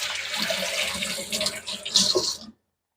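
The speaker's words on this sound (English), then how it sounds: "Let me give it a quick rinse." Tap water runs steadily over a pasta plate being rinsed in a sink, a continuous splashing hiss with brief clatter near the end before it cuts off abruptly.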